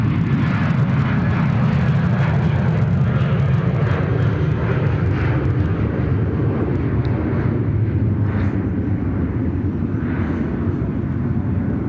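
Airliner on runway 34 right at Sydney Airport, a loud, sustained engine roar rumbling continuously at close range before easing off slightly.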